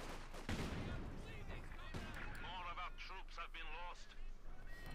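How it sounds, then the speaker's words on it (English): Grenade assault explosions and gunfire rumble through a battle in the video game Company of Heroes 2, with bursts of combat noise running under an excited voice talking over the action. "Whacked by a grenade assault."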